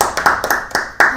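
Two people clap enthusiastically during a golf podcast, five sharp claps in an uneven rhythm, close and loud, with light voices between them.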